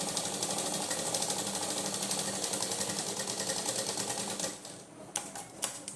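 A sewing machine runs continuously and loudly as it stitches a blouse lining, then stops near the end, leaving a few sharp clicks and taps.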